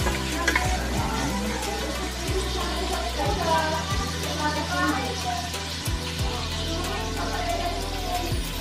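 Onion and garlic fry in a pan for a vegetable lumpia recipe with bean sprouts, giving a steady loud sizzle with occasional stirring scrapes, continuous throughout.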